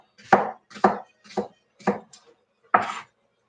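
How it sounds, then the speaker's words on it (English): An onion diced with a knife on a cutting board, five distinct chopping strokes, the first four evenly spaced and the last after a short pause, close and clear with no talk. "get my onion diced"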